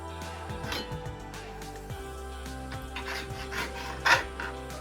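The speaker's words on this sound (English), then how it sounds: "So I'm taking off the excess fat from my oxtail." Knife trimming excess fat from raw oxtail makes soft, repeated rasping and scraping strokes close by, with irregular rhythm and one sharper scrape near the end, no voices.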